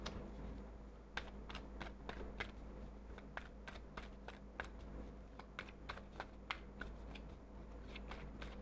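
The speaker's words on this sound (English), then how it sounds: "Shuffle." Tarot cards being shuffled by hand, a quiet series of crisp riffling snaps and soft flutters repeating irregularly over a low steady hum, close and alone.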